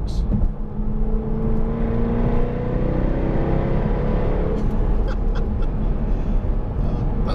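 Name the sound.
Jaguar F-Type V8 car engine driving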